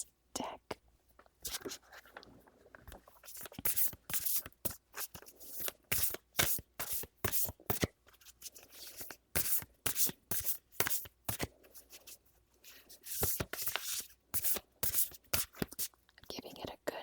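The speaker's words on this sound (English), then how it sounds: "I'm going to start with shuffling this deck." A deck of oracle cards shuffled close up for a relaxing reading, with rapid crisp riffling bursts and soft card slaps repeating throughout, while a voice speaks softly underneath.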